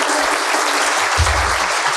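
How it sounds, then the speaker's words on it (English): An audience claps steadily and loudly, a dense wash of applause filling the room without pause. "let's give Peter a massive round of applause"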